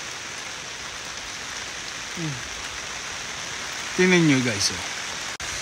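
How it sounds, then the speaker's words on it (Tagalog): Heavy rain pours steadily at a tree farm in Bailen, a dense, even hiss of drops throughout, while someone speaks briefly over it near the end. "Taas ng ulan, ganda ng maulan na bago mapagpa."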